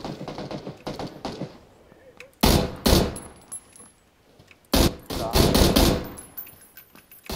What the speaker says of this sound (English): Motherfuckers are shooting an SKS already